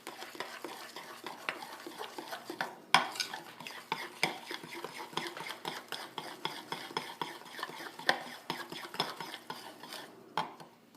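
A baking soda mixture for homemade toilet bombs being stirred in a bowl, soft repeated scraping and clinking of a utensil in an uneven rhythm, close and quiet.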